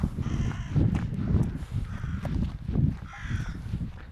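Crows caw repeatedly outdoors during a walk, harsh calls rising at intervals over footsteps, wind and ambient noise, fairly close and clear.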